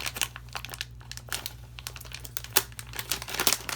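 Reflective, foil-like packaging around a pair of Nike Air Fear of God 1 Light Bone sneakers is crinkled and ripped open up close, giving a run of sharp crackling bursts of varying loudness.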